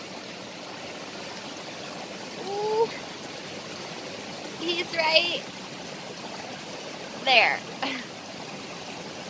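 A small stream trickles and burbles steadily near a waterfall in an outdoor area, a soft continuous flow heard under a few quiet spoken remarks.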